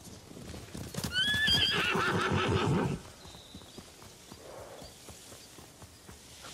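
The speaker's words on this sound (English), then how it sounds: "Horse!" In the video game Ghost of Tsushima, a horse whinnies loudly with rising and falling cries, accompanied by clip-clopping hooves that continue more quietly after the neigh fades.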